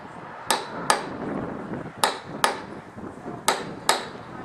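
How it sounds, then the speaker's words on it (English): A cold chisel is struck with a hammer to split a brick: six sharp metallic strikes land close by in pairs, with short ringing decays between them. "this brick and a cold chisel and by just hitting it like this,"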